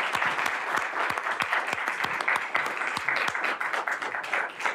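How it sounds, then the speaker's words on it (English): Audience applause for election candidates at a county Board of Education forum, with steady, close, continuous clapping from a modest crowd throughout. "I think it's time to give them an applause for"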